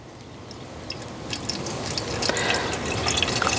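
Engine oil drains from a car's oil pan during an oil change on a Terrain, a steady close trickle with scattered drips that grows slightly louder over a few seconds, with no talking.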